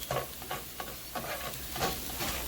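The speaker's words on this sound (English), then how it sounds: "tablespoon of minced garlic for flavor. And that's going to saute for a few moments." Minced garlic and browned onions sauté in a pan, a close, moderate sizzle with rhythmic stirring swishes every half second or so.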